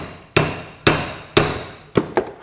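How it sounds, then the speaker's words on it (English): A big hammer strikes a wheel hub stud on a Massey Ferguson 65 tractor, giving loud metallic blows close by: three evenly spaced strikes, then a quicker cluster of hits. "And all you do is get a big hammer,"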